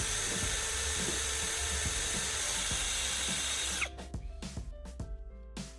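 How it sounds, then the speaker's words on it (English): A steady, loud drill whine runs for about four seconds boring a hole in plastic casing, then cuts out, leaving a few short sharp knocks and rattles. "Using my drill, I'll make a hole right where I marked."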